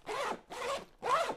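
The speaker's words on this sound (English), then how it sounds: "So great zipper" Zipper on a GWA Citadel Micro Dyneema backpack being pulled closed in three steady, close strokes with short pauses between them.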